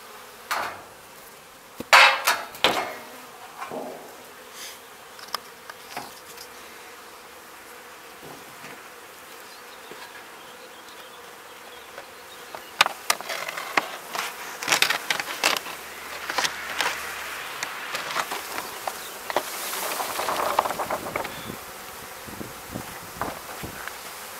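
A swarm of honey bees in a wooden beehive box hums and buzzes while sharp knocks, taps and scraping clatter from handling the hive break in, busier and louder in the second half.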